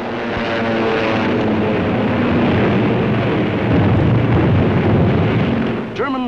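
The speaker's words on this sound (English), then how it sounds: "In dozens of flights, hundreds of planes, bombers, fighters, dive bombers, across that 21 miles of channel" WWII bomber and fighter planes fly over the English Channel, a loud, continuous propeller drone that swells and roars, with a brief whine near the end.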